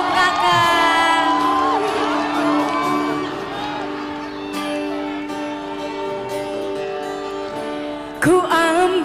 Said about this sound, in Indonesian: Tepuk tangan dulu untuk Slank dan Om Kakak.